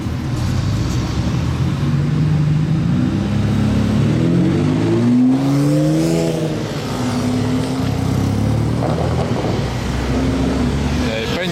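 A Ferrari Super America engine revs and rises in pitch as the car drives past on a Monaco street, loud and close, with the revving swelling and then fading against steady traffic noise and voices.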